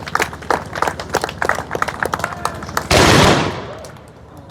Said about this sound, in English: Musket volley.